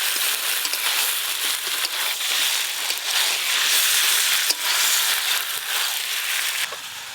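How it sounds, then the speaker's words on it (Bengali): Fried vegetables and hilsa fish head are stir-fried with spices in a hot pan, giving a loud continuous sizzle with scraping stirs and occasional crackles, close and unbroken, with no voices. "খুব ভালো করে মশলার সাথে সবজির সঙ্গে কষিয়ে নেব।"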